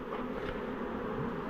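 A steady, dense hum of many honey bees buzzing close by at a beekeeping site, continuous and fairly soft, with no voices.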